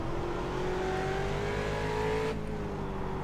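A race car engine in a racing video game revs up in a steady rising whine after a missed downshift, then cuts off sharply near the end, loud and close throughout.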